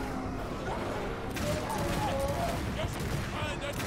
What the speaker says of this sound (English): Well, anyway, I started blasting.